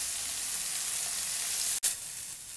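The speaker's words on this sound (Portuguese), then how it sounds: "E aqui nós vamos deixar dourando bem." Okra pieces frying in hot oil in a pan, a steady dense sizzle with a brief dip near the end, close and alone with no talk.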